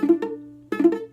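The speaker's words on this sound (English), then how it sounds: "If you have fingers that lay down, it's going to sound like this." Two strummed ukulele chords sound dull and muffled from fingers lying across the strings, each downstroke followed by a quick upstroke, with little ring between them.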